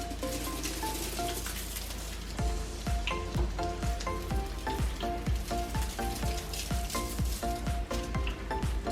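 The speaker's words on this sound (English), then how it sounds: "I am frying up the last of my chicken wings" Lemon pepper chicken wings frying in hot oil, a dense steady sizzle with scattered popping crackles, close and continuous.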